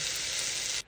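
Food fries in a greased pan with a steady, close, bright sizzling hiss that cuts off abruptly just before the end.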